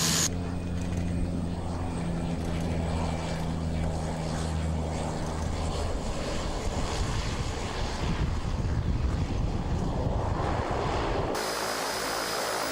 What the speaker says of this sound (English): Able to take off and land on a short distance, even in rough seas, the seaplane is the ideal surf mobile to check the nearby spots.